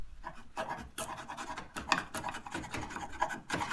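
Hand tool scraping and shaving wood on a restored old axe, a steady run of short rasping strokes in bursts with brief pauses between them, close and moderately loud with no talking.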